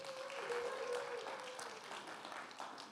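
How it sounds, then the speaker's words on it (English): Faint, distant round of applause from an audience at a church talk, soft continuous clapping heard low in level with a thin tonal hum underneath. "You can give them a round of applause."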